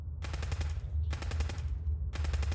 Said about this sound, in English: There was more gunfire above